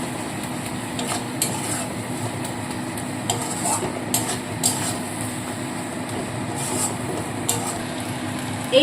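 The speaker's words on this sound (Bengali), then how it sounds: "মশলাটা দিয়ে ভালো করে সমস্ত মশলার সাথে আরও সুন্দরভাবে কষিয়ে নিতে হবে" Fried spice mix being stir-fried in a pan for chicken ghugni, a steady low sizzle with intermittent scraping stirs, no talk.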